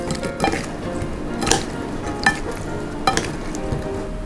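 Fresh shrimp being tossed into a spicy Thai lime salad with shallots and a sweet-salty dressing, giving soft wet stirring and a few sharp utensil clinks against the bowl at a steady, unhurried pace, close by.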